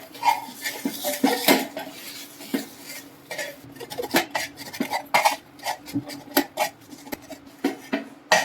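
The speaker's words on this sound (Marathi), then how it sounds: "आता ह्याला आपण घेऊयात वाट आपली ही मस्त गावठी पद्धतीने आपण त्याला ठेचून घेऊया" Roasted green chillies and garlic are pounded by hand, village style, for a spicy thecha, giving irregular knocking thuds and clinks with scraping in between, close and fairly loud, with no talk.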